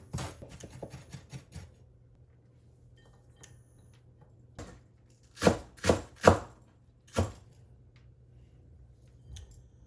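Ginger skin scraped off with a teaspoon: a quick cluster of light scraping taps, then a few louder, isolated scrapes and knocks close by, with no speech.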